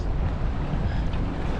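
Wind gusts across open water while out in a boat, a steady close rush of buffeting noise with low rumble and no speech.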